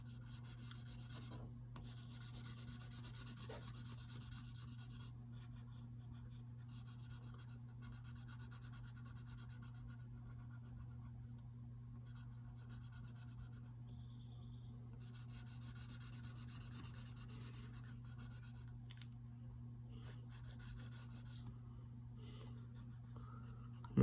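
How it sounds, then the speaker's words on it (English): Pencil shading on paper with the side of the graphite, a long continuous soft rubbing scratch in steady back-and-forth strokes over a low electrical hum. "you gotta use the side of your pencil when shading"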